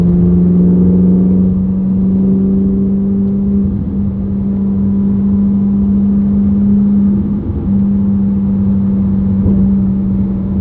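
Ferrari 458 with an S-Line exhaust, valves open, cruising at about 70 with a loud, close, steady engine drone and exhaust hum that rises and falls slightly for the whole stretch, with no talk over it.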